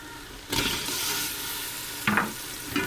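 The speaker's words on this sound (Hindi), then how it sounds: "अब गोश्त को हमने अच्छे तरीके से फ्राई करना है मसाले में" Meat sizzling and frying in a spiced masala in a pan, a steady hiss with a loud stirring scrape starting half a second in and brief clatters of the spoon near the end.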